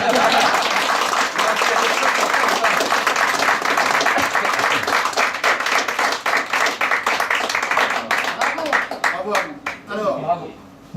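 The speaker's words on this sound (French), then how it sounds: "j'ai dit de les applaudir très fort." Audience at the 2016 Baguettes d'or award ceremony in Paris applauding the bakers: dense, sustained clapping that thins out into scattered individual claps near the end, with a few voices mixed in.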